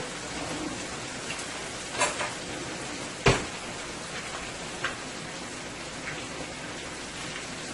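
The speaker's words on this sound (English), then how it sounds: "And let that fry until it's completely cooked." Chicken frying in a big 12-inch pan over medium heat gives a steady crackling hiss, with a few sharp pops and clinks rising above it.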